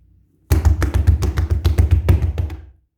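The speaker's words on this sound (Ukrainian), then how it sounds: "А можна просто потупотіти." Rapid stomping feet on a floor, a quick series of heavy thuds in steady rhythm, loud and close, lasting a couple of seconds with no talking.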